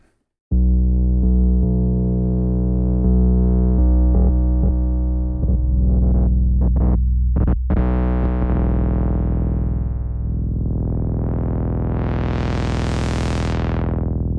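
Layered synth tracks with the spring reverb switched off: a steady, buzzy electronic drone broken by sharp crackling stutters, then a loud filtered sweep that rises and falls before the end.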